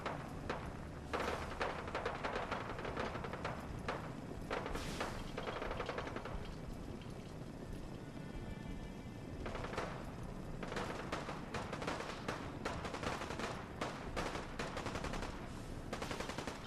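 Gunfire in Fallout 4, rapid bursts of automatic fire and repeated shots crackling continuously at moderate distance, with dense overlapping volleys and no pauses.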